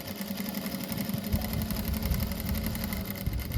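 A sewing machine runs steadily, stitching a flower rug, its fast rhythmic needle chatter loud and close throughout, with no talk.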